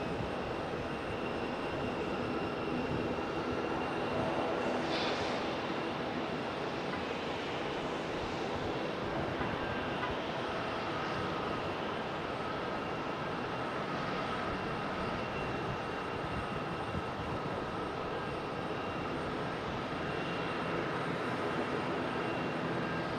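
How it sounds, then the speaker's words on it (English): An ATR turboprop lands and brakes to a short stop at Raleigh-Durham airport, its engine roar a continuous, moderately distant drone that holds steady for the whole stretch. "ATR stopping short."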